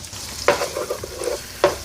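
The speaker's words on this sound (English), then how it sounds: "We're just gonna cook this garlic for about 1 to 2 minutes." Garlic sizzling in three tablespoons of melted butter in a pan for garlic butter chicken pasta, with a steady close frying hiss and two louder scraping stirs.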